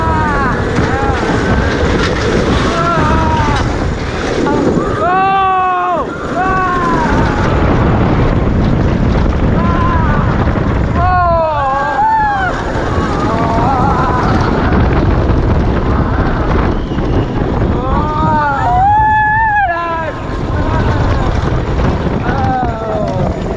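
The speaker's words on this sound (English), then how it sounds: "Jayden on the launch, ready to ride your motorbike as a Coleman motorbike coaster" A loud, steady rushing roar of a motorbike roller coaster launch at Flamingo Land, with wind buffeting and several bursts of high-pitched screaming and whooping from riders.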